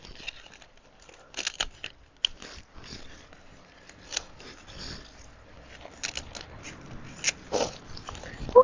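Garden plant stems are snipped during pruning, giving a scatter of sharp, close, crisp cuts and small crunchy snaps spread irregularly over quiet background.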